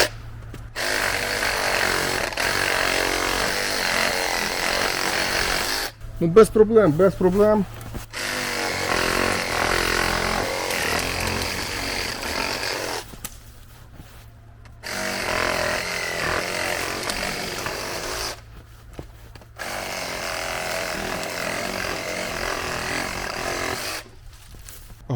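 A loud Grand reciprocating saw buzzes in repeated bursts cutting shrub branches, with short pauses between cuts, close by, with a brief exchange of speech in one gap.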